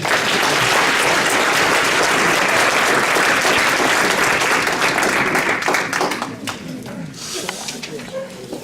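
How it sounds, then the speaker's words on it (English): A large audience at an interfaith program claps in a dense, steady roar for about six seconds, then the applause thins out and fades to scattered claps near the end. "Let's give them a big round of applause"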